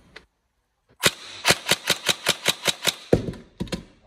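A Tokyo Marui 416 next-generation airsoft rifle fires a quick burst of about ten evenly spaced sharp cracks, preceded by a single shot and followed by a few more, loud and close.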